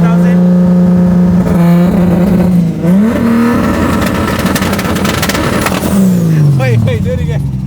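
A Ram TRX pickup truck's engine revs hard and loud from close by, a deep steady drone that surges and falls off again, with people talking over it.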